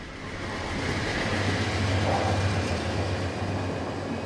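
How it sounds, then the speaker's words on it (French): A Chinese high-speed train passes as a steady, broad rumbling roar with a low hum underneath, sustained and fairly loud throughout without any voices. "Ce TGV chinois semble venir d'une autre dimension."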